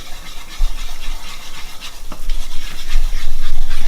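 A spoon stirs tomato gravy in a pan to break up flour clumps, giving a close, steady scraping and swishing that grows busier toward the end.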